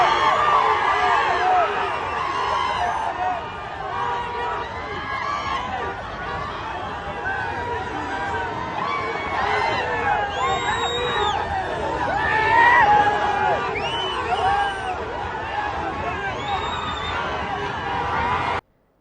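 A large, dense crowd of Jagan's supporters at Nannur fills the air with continuous loud chatter, shouting and hubbub that holds steady throughout before cutting off abruptly.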